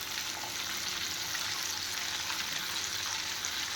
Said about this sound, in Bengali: লঙ্কাটা একটু নেড়ে নেব যাতে ফ্লেভারটা তেলের মধ্যে এসে যায়।